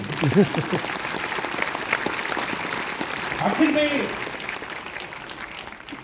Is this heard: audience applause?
yes